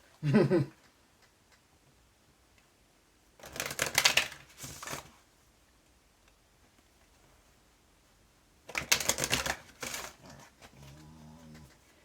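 A deck of tarot cards is shuffled in several brisk riffling bursts separated by quiet pauses, close and crisp, with a short vocal sound at the very end.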